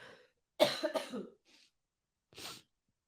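A person coughs a few times in a quick burst, followed by a faint breath and one more short cough.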